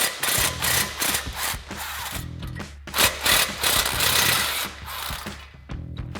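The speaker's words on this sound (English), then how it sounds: "we're just gonna put an extension on our 14mm socket to get those out" A ratcheting socket wrench on an extension works the 14mm spring bolts loose from the front exhaust flange of a 2024 Toyota Tacoma, with rapid close clicking and rattling that runs nearly nonstop and comes in uneven bursts.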